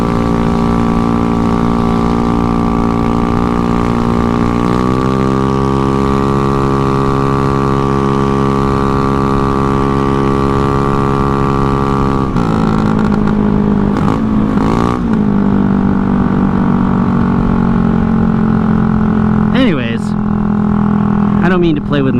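Honda Ruckus scooter engine while riding, a loud steady buzzing drone with shifting pitch as speed changes and the clutch and cleaned carb are tested, with brief bursts of wind or handling noise in the later part.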